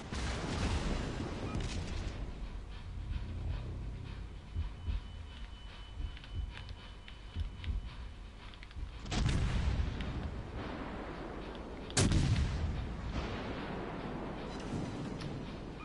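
Heavy naval gunfire in a warship video game, a volley of high-explosive shells from the battleship Fuso: a steady rumbling battle din with two sharp, loud booming impacts standing out, the second the strongest.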